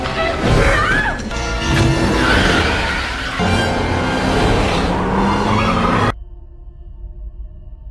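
In a film scene a car makes a getaway: engine roar, tyre squeal and a jolting impact-like burst, loud and close for about six seconds before cutting to a quiet, muffled tail.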